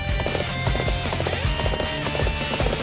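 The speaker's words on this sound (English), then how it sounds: "I feel like I'm doing a good job riding this horse." Horse hooves clip-clopping in the video game Dynasty Warriors 8, a quick regular gallop of close hoofbeats over a dense musical game backdrop, with no talk.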